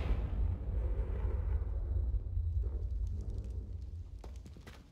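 A Confringo fire spell blast from Hogwarts Legacy, a deep rumbling burst that rolls on steadily for several seconds and then tapers off, with a few faint crackles near the end.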